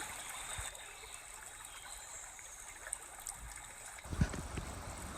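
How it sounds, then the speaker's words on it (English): A flowing Virginia river stream, the Rapidan or Rappahannock, murmurs steadily nearby, with a few louder splashes and gurgles near the end. "This is ambient noise from the surrounding area."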